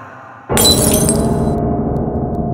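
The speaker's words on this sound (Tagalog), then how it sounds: "nalaglag ang isang boteng alak na nasa may munting mesa" A glass liquor bottle drops from a small table and shatters with one sudden, loud crash, followed by a bright spray of breaking glass that rings on and slowly fades.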